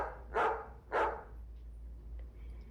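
Two short, clear barks from playful puppies in a yard, spaced about half a second apart and heard alone over a low background hiss.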